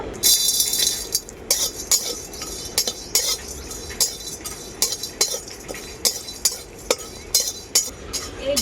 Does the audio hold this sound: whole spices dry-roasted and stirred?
yes